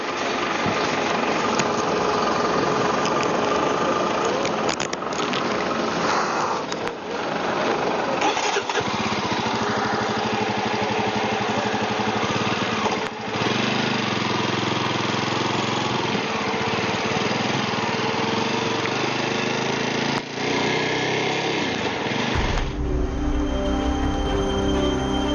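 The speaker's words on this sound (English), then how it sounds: "the army commander is riding an open motorcycle all along this journey" An army commander's open motorcycle runs steadily on a mountain highway toward a Srinagar cantonment, a loud continuous engine drone with wind noise that holds for most of the stretch before changing near the end.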